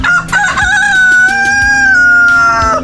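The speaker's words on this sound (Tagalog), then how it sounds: "Ito mayroon din pong isang manok native." A native rooster crows loudly and close by, one sustained call mixed with a few clucks, alone with no voices.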